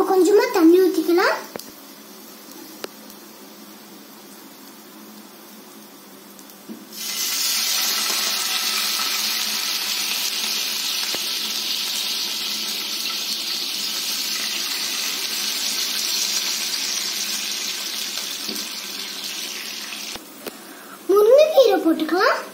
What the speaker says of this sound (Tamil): இப்ப நம்ம கொஞ்சமா தண்ணி ஊத்திக்கலாம்.